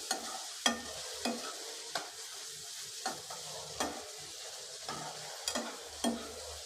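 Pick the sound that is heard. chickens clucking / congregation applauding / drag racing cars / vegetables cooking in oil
vegetables cooking in oil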